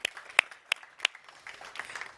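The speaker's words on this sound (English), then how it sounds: "warm applause" A few sparse claps ring out from an audience at a tech summit women's breakfast, several distinct sharp hand claps followed by softer scattered ones that fade quickly.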